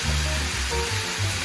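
Sweet potatoes and sausage sizzle in a Saladmaster pan, a loud, steady, close hiss of frying that runs without pause and with no voices over it.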